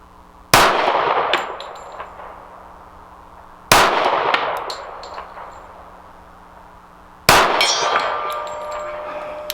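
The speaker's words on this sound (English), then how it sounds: "Keep getting the gong." Three loud, sharp .45 ACP pistol shots from a Dan Wesson Commander Classic, each ringing a steel gong target with a bright clang that decays over about three seconds before the next, evenly spaced, no talk.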